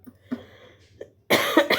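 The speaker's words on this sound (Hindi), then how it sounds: "मुझे खांसी बहुत आ रही है, लेकिन फिर भी मैं पढ़ा रही हूँ।" A woman teaching a sociology lesson gives a few small throat sounds, then a burst of harsh coughs close to the microphone, with no talk.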